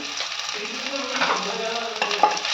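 Sliced onion with ginger-garlic paste sautés in a pan for a mutton kola urundai kuzhambu, giving a steady, close sizzle with soft stirring scrapes throughout and no talking.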